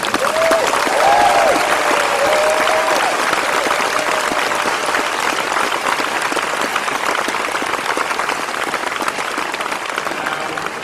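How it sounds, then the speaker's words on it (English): Sustained applause from a large audience at a college commencement ceremony, dense steady clapping filling the hall for the whole stretch, loud and continuous with no talk over it. "why don't you give them a big hand?"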